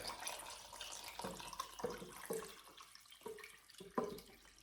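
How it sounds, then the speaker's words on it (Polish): Water poured into a pot holding jars of cucumber and cabbage salad set on a cloth, a splashing, trickling flow with a few clinking knocks of glass, close by and with no talk. "układam słoiki i zalewam wodą. Wodą zalewam pod samą nakrętkę"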